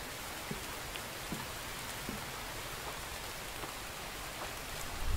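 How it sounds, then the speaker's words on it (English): Steady rain in a survival video game, an even hiss of falling rain with faint scattered drop taps, continuous and moderately loud with no voices. "With the game I play, there's always rain."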